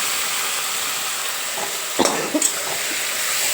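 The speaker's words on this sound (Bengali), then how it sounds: "সর্ষা কিন্তু বেশি ভাজা যাবে না পোস্ত দেওয়া আছে যদিও বেশি ভাজলে কিন্তু সর্ষাটা তেতো হয়ে যায়" Mustard and poppy seed paste with water and fresh river Raikhor fish sizzles softly and steadily in a pan, broken by a couple of brief utensil knocks and stirring sounds midway.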